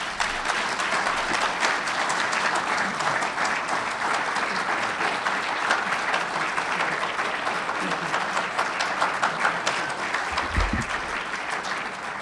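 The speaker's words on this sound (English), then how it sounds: "So round of applause." A crowd at a high school athletic hall of fame induction ceremony gives loud, dense applause that stays steady and full for its whole length, with faint murmurs mixed in.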